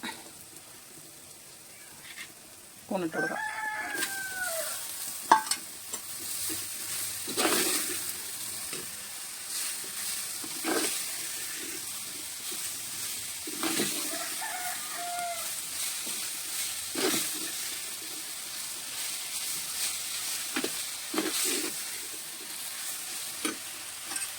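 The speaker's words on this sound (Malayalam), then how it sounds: "അപ്പം ഇനി കഴുകി വൃത്തിയാക്കി വെച്ച കൂണിട്ട് കൊടുക്കാം." Washed, cleaned mushrooms hit a hot pan and are stir-fried, a steady close sizzle with spatula scrapes and stirring knocks, a few bird-like squeaks over the frying.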